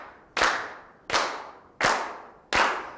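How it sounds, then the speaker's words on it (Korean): An audience at a magician's lecture claps in unison, four sharp, loud claps spaced evenly about three-quarters of a second apart, each ringing briefly in the room, with no talking. "박수를 쳐봅니다. 자, 하나, 둘, 셋."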